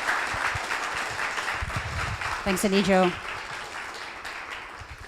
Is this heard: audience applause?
yes